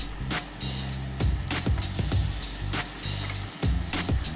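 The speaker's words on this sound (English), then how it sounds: "add 3 tablespoons of butter and let that melt on medium heat" Butter melting in a saucepan over medium heat, ready for a cheese sauce, sizzling and spitting steadily with sharp crackling pops throughout, close and fairly loud, with no voices.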